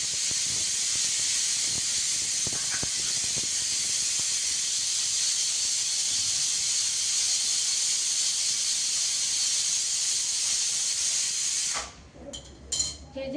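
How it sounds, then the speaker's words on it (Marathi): A kitchen pressure cooker boiling potatoes hisses steam in a loud, steady, close jet for about twelve seconds, then cuts off abruptly, leaving faint clatter and room sounds. "एक साईडला कुकरमध्ये बटाटे उकडायला घातलेत मी"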